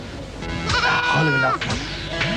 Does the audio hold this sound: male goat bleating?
yes